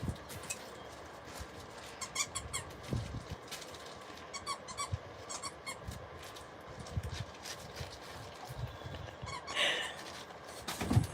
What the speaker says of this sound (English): She found the squeaky part.